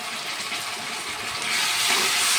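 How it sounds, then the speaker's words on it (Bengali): Tomato paste poured into hot oil in a pan, giving a steady close hiss and sizzle that swells louder in the second half. "এবার টমেটো পেস্টটা ঢেলে দিলাম"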